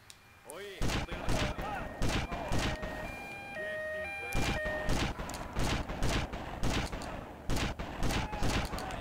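Rapid bursts of gunfire in the video game GTA Vice City crackle loudly and close in clustered volleys, with a few electronic game tones chiming between shots as a voice talks over parts of it.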